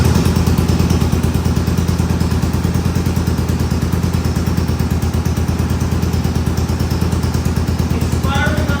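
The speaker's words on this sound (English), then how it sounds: "It's firing on a single cylinder." Honda CB450 twin motorcycle running on only one cylinder after sitting for ten years, giving a loud, lumpy, uneven idle with rapid clattering pulses close by inside a garage, steady for several seconds.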